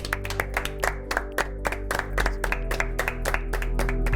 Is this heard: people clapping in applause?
yes